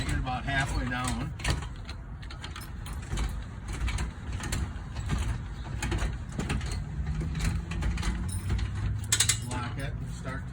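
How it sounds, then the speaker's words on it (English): The crank on a 2020 Rockwood 1640 LTD camper lift turns as the roof lowers, with a busy run of ratchet clicks and gear rattles and a voice talking in the background. "if you let go of the crank, there's nothing to stop it from coming down until you go and it clicks, and that locks the lift system"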